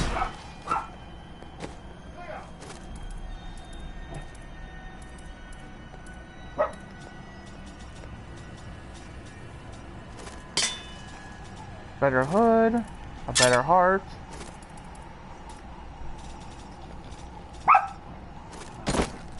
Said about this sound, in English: Sorry for the barking, my dog's going hyper.